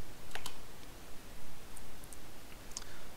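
Computer keyboard keys tapped in short, scattered bursts of clicks, moderately close over a steady background hiss, with no voices.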